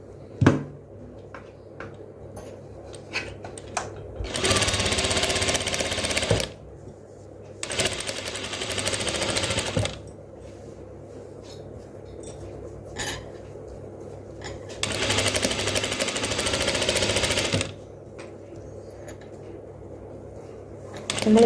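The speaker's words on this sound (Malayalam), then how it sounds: "ഇനി നമുക്ക് നെക്ക് സ്റ്റിച്ച് ചെയ്ത് കൊടുക്കാം." A sewing machine stitches the neckline of a crop top in three loud, steady runs of a few seconds each, with quieter handling noises in the pauses between them.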